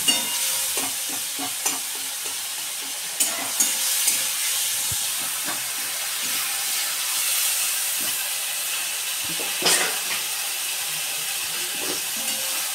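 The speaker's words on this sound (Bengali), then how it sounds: "এবারে এই মশলাটা আমি এই তেলের মধ্যে দিয়ে দিচ্ছি। এবারে এই মশলাটাকে আমি একটু কষাবো।" Spice paste fries in oil for a fish curry, sizzling steadily with repeated close scrapes and knocks of a spoon stirring it, plus a louder hiss surge near the end.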